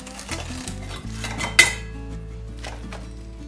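Salted cabbage with juniper berries being tipped into a fermenting crock, heard as a run of close scraping, clinking and rustling knocks with one sharper clatter midway, no voice.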